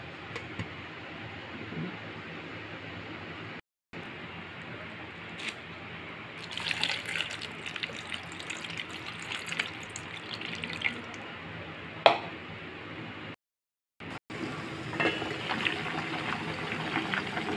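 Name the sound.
corn boiling in a pot of water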